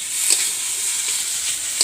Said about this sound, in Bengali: এখন আমি এই মশলাগুলো শুকনো কড়াইয়ে ভালোভাবে ভেজে নেব।